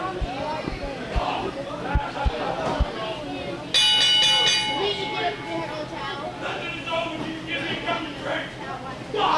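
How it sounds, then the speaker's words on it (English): A bell rings at ringside to end a professional wrestling match, a bright sustained clang cutting in over the loud crowd babble and commentary of an arena. "That's it, the bell ring."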